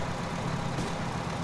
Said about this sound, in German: Trecker fahren!